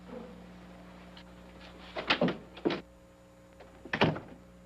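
An office door is opened and shut as a visitor is shown in, giving a few close thumps and latch knocks, the loudest pair near the middle and another near the end, over a low steady room hum with no talking.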